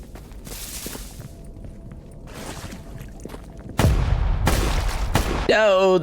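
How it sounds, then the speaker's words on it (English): Gunfire in the video game Stalker GAMMA: a couple of loud, sharp bursts in the second half of the clip, standing out over quieter ambient game sound, with a short tonal sweep at the very end. "Oh, those are more gunshots."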